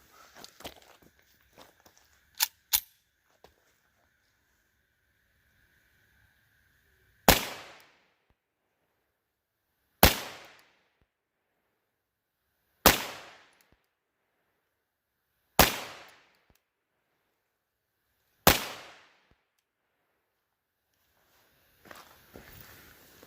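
Five sharp, evenly spaced gunshots ring out from a TX22 pistol firing .22lr ammunition, each a loud crack with a short decaying tail, separated by quiet gaps of a few seconds, with faint handling clicks before.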